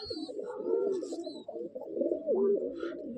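Pigeons coo in a steady, low, throaty warble at a pigeon market, close and continuous throughout, with a few faint chirps in the background.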